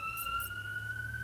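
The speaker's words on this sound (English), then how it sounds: "Excuse the sirens if y'all hear them." A police siren wails outside, a faint distant steady tone carrying over low background hum.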